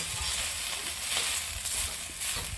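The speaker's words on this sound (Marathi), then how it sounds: "गवार इकडे भाजत आलेली आहे" Washed cluster beans (guar) roasting on a hot griddle give a steady, soft, close sizzle with faint crackles, alone and with no talk.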